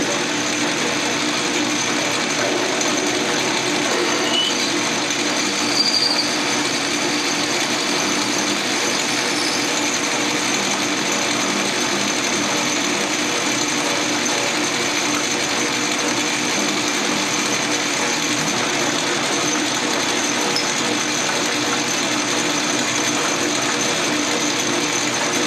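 A machine steadily cuts threads on a bullet sizer part, giving a continuous, even mechanical whir with a faint ratcheting texture that runs unbroken and close throughout, with no talking.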